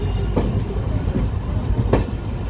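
The Kolkata–Sairang Express rolls into Badarpur Junction with a loud, steady rumble and rattle heard from on board, broken by rhythmic clacks of wheels crossing rail joints, with no talking.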